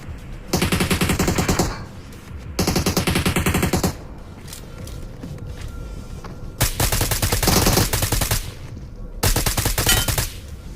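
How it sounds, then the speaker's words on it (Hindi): Automatic gunfire rings out in the BGMI battle royale game in several loud, rapid sustained bursts separated by quieter stretches of in-game ambience. "यहाँ पर गोली चलने की आवाज आती है"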